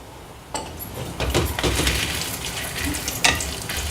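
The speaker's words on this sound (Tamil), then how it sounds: "இஞ்சி சேர்த்து வதக்கணும்." Ginger and red chili sauté in a hot pan with a steady, loud sizzle, broken by a few sharper scraping and stirring sounds near the start and end.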